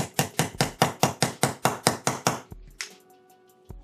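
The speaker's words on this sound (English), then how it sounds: "push it the rest of the way through with my hammer" A hammer taps a trigger pin into a Canik Mete MC9LS pistol with about eleven quick, evenly spaced, sharp knocks close by. A thin metallic ringing and one last soft knock follow.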